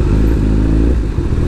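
A Kawasaki ZX14R motorcycle engine runs loud and close in a brief burst, a deep throbbing rumble that wavers slightly with throttle, with no speech.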